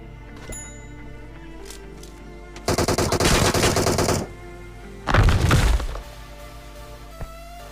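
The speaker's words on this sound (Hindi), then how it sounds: "अब यहाँ पे गोली मैं पहले चलाता हूँ" Automatic gunfire in a battle royale video game: two loud, dense bursts of rapid shots, each lasting about a second and a half, separated by a short pause, with a few faint isolated pops around them.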